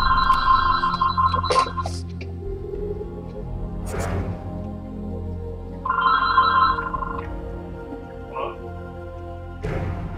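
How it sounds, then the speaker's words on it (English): A telephone rings in two bursts of bright, warbling electronic tone with a short pause between them, heard over low background game sounds and clicks. "I've got a phone call."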